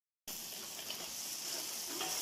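Potatoes frying in hot oil after peppers have been cooked in it, a steady close crackling sizzle that begins abruptly and holds even throughout, with no talking.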